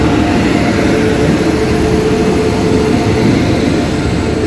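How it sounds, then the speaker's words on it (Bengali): Down Amritsar–Kolkata Akal Takht Express, hauled by a WAP-7 electric locomotive, arriving at a station platform: a loud, steady broadband rumble and rolling roar that holds unbroken throughout. "আমাদের ডাউন অমৃতসর কলকাতা আকাল তখ্ত এক্সপ্রেস এসে গেছে।"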